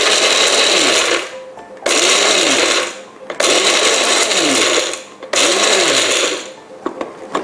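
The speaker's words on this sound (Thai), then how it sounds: "เราจะมาเริ่มมาปั่นกันไม่ต้องละเอียดมาก" An electric blender chops small garlic cloves in four loud, whirring pulses of roughly one to one and a half seconds each, with brief drops in between as the motor spins down.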